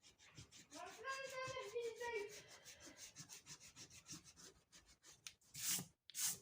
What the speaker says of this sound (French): Là, je vais gommer.